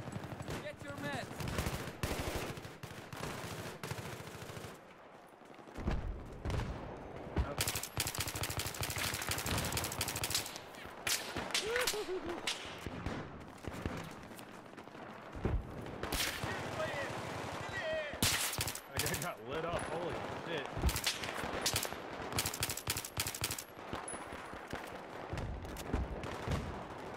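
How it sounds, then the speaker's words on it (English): Rapid rifle bursts and scattered gunfire in Battlefield 3, a military shooter game, crackling loudly throughout with players talking over the shooting. "I was just blind firing over there trying to give you guys some cover"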